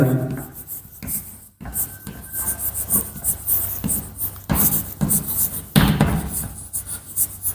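A pen or marker rubs out a thick line on paper while a math answer is written, giving close, continuous scratchy strokes in short repeated bursts with brief pauses.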